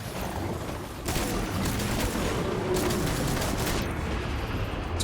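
Shotgun blasts in Death Stranding Director's Cut, heavy booming reports against a constant roaring noise bed, several sharp bursts standing out near the start and middle, with no voices.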